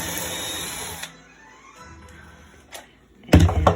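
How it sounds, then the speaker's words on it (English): A power drill driving screws through the back of a painting's frame into a wooden crate, a steady whirring burst at the start, then a quiet pause with small knocks and a short final burst. "the back of the frame of the painting is being screwed right to the crate"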